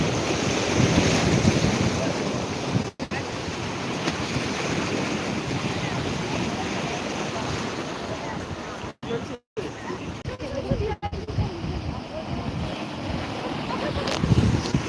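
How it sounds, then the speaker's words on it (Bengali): Sea waves roll in at high tide on Digha beach, a steady loud wash of surf mixed with strong wind buffeting the microphone, with a few brief dropouts. "ইতিমধ্যে চলছে ভীষণভাবে চলছে জোয়ারের পর্ব"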